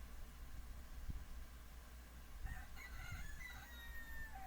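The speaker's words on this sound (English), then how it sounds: "That's the Roosters, by the way." Roosters crowing at a distance, a couple of drawn-out calls over a steady background hiss, faint and without any talk.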